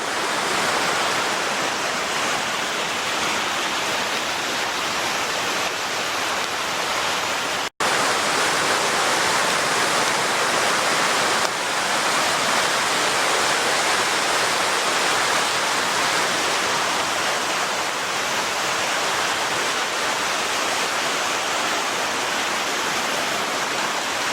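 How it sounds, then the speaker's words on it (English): Mountain waterfalls pour beside a creek in a continuous, dense roar of rushing water, loud and close, with a momentary break partway through. "We got some cool waterfalls up here."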